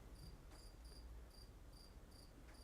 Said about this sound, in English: I don't know if you can hear the rain outside and the crickets.